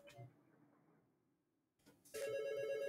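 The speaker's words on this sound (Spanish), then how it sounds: "Aquí, por ejemplo, veis que suena un sonido como de un teléfono" A telephone rings in the retro horror game Dead of the Brain, a sharp electronic ring bursting in loud and steady after a near-silent stretch, preceded by faint murmured talk.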